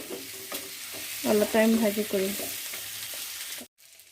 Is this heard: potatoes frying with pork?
yes